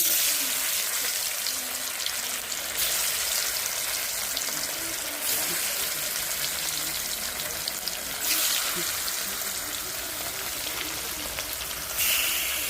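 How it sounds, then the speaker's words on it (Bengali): Fish frying in a pan, a continuous bright sizzle with crackling spatter throughout, swelling louder in bursts every few seconds. "তারপরে মাছটি ভালো করে ভেজে রাখবো।"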